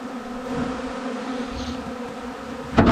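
A dense, steady buzz of many bees humming together at a hive, continuous and close, with a brief louder rustle at the very end.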